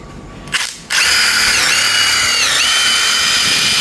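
A brief clunk, then a loud power drill whines steadily at high speed, its pitch dipping briefly as it bites into hard ironwood.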